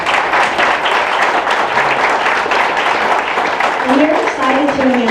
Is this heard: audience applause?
yes